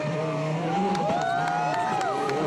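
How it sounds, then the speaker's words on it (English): A WRC rally car on a Rally México 2006 stage, engine revving and shifting as it passes at a moderate distance, with a commentator talking over the sound. "here comes the next car into the stage"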